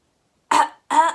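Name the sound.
voice imitating a cough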